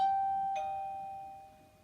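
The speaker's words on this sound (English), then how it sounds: "doorbell going." A doorbell chimes twice, a bright two-note ding-dong with the tones ringing out and slowly fading in a quiet room.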